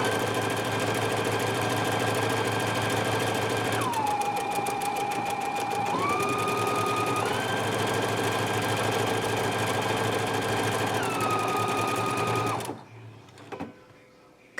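A Husqvarna Viking Epic 980Q sewing machine stitches a buttonhole, a steady close mechanical whir that shifts pitch several times as the stitch direction changes, then stops abruptly near the end with a couple of faint clicks.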